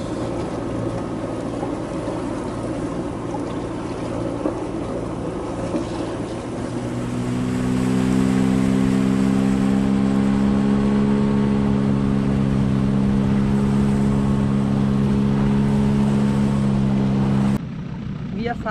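A sailing yacht motors against the current in the Las Perlas islands of Panama, its engine a steady droning hum that swells louder and more tonal midway, with voices talking over it.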